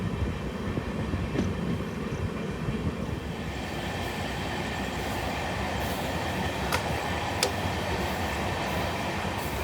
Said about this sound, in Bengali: তো ট্রেন এখন জাস্ট শান্তিনিকেতন থেকে ছেড়ে বেরোচ্ছে